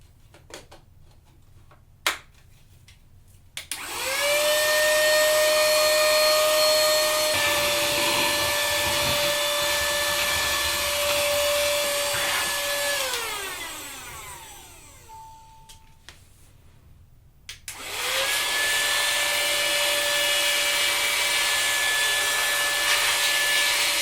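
A loud, steady whining motor runs for several seconds, winds down, then starts again with a high-pitched blowing hiss from a small portable air compressor with vacuum and blower sides.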